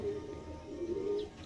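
A Madrasi pigeon held in hand gives soft, low coos, a couple of brief murmuring notes close by and faint, with no talk over them.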